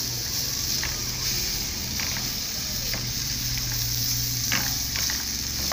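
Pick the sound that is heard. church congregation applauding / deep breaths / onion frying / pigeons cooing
onion frying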